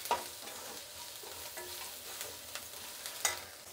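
Onions fry with turmeric in a pan, stirred with a continuous soft sizzle and scraping, punctuated by a few light clicks of the spoon against the pan.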